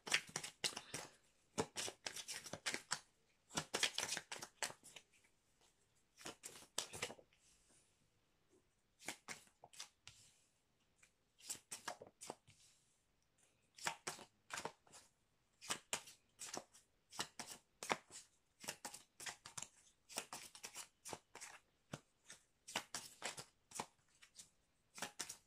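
Oracle cards being shuffled by hand, close and quiet, in repeated short crisp riffling bursts separated by brief pauses, with no talking.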